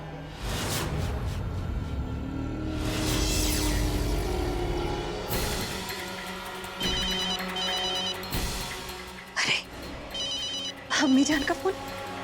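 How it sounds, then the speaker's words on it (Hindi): A telephone rings indoors in a domestic drama scene, a repeated electronic ring heard in short bursts over background music, with people talking at times. "अम्मी जान का फोन।"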